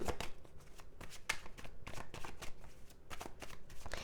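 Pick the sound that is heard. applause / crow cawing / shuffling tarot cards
shuffling tarot cards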